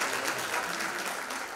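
An audience at a Turkish classical music choir concert applauds a young soloist, a dense, steady wash of clapping from many hands throughout, with no voices standing out.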